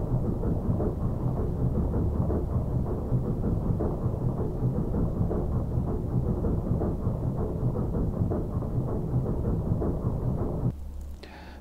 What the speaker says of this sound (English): I think we're hearing the lifters and the valves.